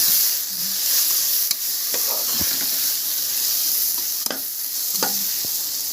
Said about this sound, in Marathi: हे सगळं मिश्रण आपल्याला आता मिक्स करून घेऊया